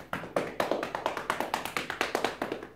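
Rhythmic qi gong self-massage: fists tapping and open palms clapping against the body in an even, brisk beat of about four strikes per second, close and clear with no talking.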